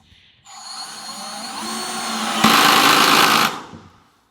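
A Jianli cordless screwdriver spins up at speed 1, torque 1, a steady close whirring motor that grows louder with a rattling clutch buzz before stopping abruptly.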